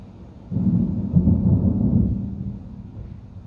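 Dry lightning storm thunder: a low, heavy rumble that swells in suddenly, peaks with a brief crack-like burst, then rolls on for a couple of seconds before slowly fading, with no rain audible.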